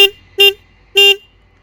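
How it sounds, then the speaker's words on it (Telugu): Horn of a Bajaj Pulsar N160 motorcycle, two short, loud, bright honks with a brief pause between them and a faint trace at the start. "ఇక దీని హార్న్ సౌండ్ చూద్దాం."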